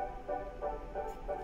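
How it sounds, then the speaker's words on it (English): Soft synth plucks from the Nexus synth repeat at an even pace, each note trailing into echoing delay repeats that blur together, fairly quiet with no voices. "It has a lot of delay,"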